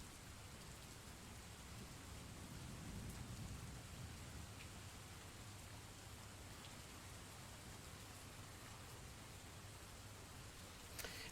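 Steady rain ambience with low rumbling thunder plays faintly and continuously from the Rainy Mood website, a soft even hiss with a swell of rumble early on and no talk.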